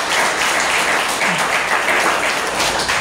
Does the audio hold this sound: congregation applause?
yes